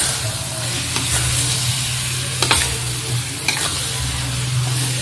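Cleaned freshwater clams (kijing) stirred into a pan of wilted, fragrant spices, sizzling loudly up close with a low hum and a few brief scraping clanks.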